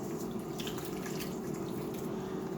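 Starchy pasta water pours steadily into a pan, a continuous close splashing trickle with no talking over it.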